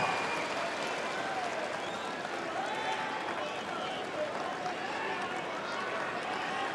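Tennis crowd at the Australian Open 2018 fourth-round match between Nick Kyrgios and Grigor Dimitrov applauds in a dense, sustained wash of clapping. The applause sounds distant in a large stadium and continues steadily, with faint voices underneath.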